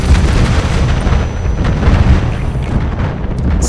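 Rocket explosion in Battlefield 6 on the Escalation Contaminated map, heard as a loud, sustained booming rumble that rolls on without a break and with no talking.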